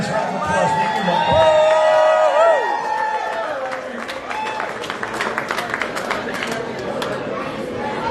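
Audience cheering and applause at the 55th annual IPA festival and convention, whoops and shouts rising over clapping, then settling into steady applause mixed with crowd chatter and nearby voices.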